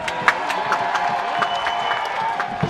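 An audience at a point-to-point equestrian event in Château-Gontier claps and cheers for an applause-meter vote, a steady moderate wash of scattered clapping and crowd noise without a break.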